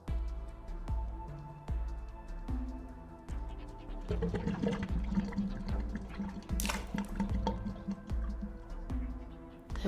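Water runs from a kitchen tap in The Cat Lady, a steady faint flow that swells midway, with sharp regular drip-like taps recurring throughout.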